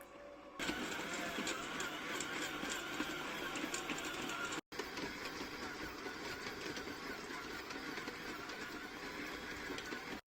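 A stand mixer kneads bao dough at high speed with a steady whirring motor hum and a rhythmic churning rattle. The sound is close and continuous, cut briefly by one short gap midway.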